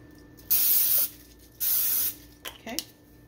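A water spray bottle used beside a hot iron gives two sharp, close hissing bursts of about half a second each, followed by fainter short spritzes, with quiet room tone in between.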